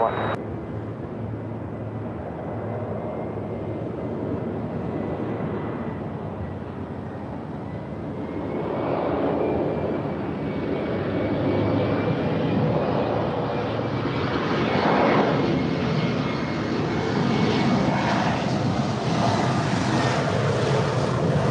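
A Delta Connection SkyWest Embraer E175LR regional jet landing at LAX, with a broad engine roar that swells and fades as it passes and a faint whining tone running through it, with a voice talking over it.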